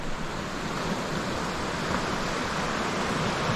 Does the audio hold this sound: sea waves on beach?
yes